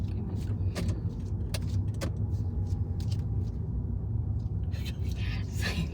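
A learner driver's car rolls along a road near a roundabout on a driving test, its steady low engine and road rumble continuous throughout, with a few faint clicks and rattles inside the cabin.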